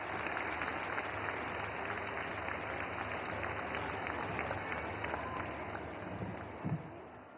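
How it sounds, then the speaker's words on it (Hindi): Applause from an audience at a government event in Panipat, Haryana, welcoming the minister; dense, steady clapping that carries on for several seconds at a moderate, fairly distant level with no talking over it. "तालियों से स्वागत करें माननीय मंत्री महोदया का"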